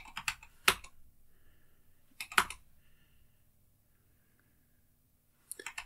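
A few quick bursts of keystrokes on a computer keyboard entering a Linux terminal command, close and crisp clicks separated by silent pauses, with a final short flurry at the end.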